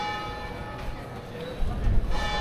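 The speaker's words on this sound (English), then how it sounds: "it's everywhere you go, you get the bells going" Church bells ringing in a Spanish town, a tonal clang heard under people talking, growing louder toward the end with several strikes.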